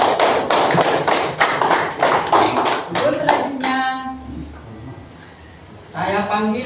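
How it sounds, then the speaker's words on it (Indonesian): A burst of lively classroom applause from many hands, then it stops and children's voices chatter before another short round starts. "Tepuk tangan untuk saudari Amel."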